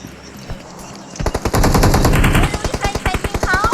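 Rapid automatic gunfire from the PUBG battle game, a loud sustained burst of closely spaced shots that starts abruptly after a quieter lead-in, then breaks into separate pulsing volleys.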